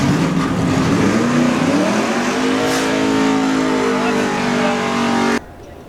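A twin-turbo Malibu drag car accelerating hard at a drag strip: a loud, rising engine roar that climbs in pitch for several seconds near the listener before cutting off abruptly.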